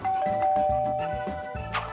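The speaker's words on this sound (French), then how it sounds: "Arrêtez de sonner!" A novelty doorbell rings insistently, a string of bright ding-dong chimes repeating rapidly and loudly up close with a sustained tone underneath, pressed again and again without pause.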